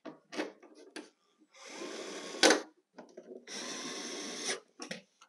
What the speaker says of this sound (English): At this time, we're going to put the screws back in.